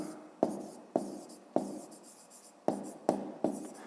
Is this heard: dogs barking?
no